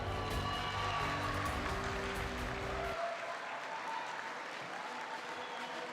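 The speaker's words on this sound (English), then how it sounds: "There's a lot of cheer," Applause and cheering at a G20 awards ceremony as a health tech founder award winner comes to the stage; dense clapping fills the first half, then drops to a softer, thinner room wash.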